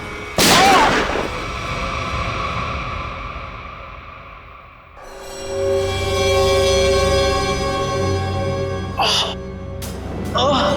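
A sharp loud gunshot bursts out early in a crime-drama scene, then tense voices and a swelling musical drone follow, with a couple more abrupt bangs near the end.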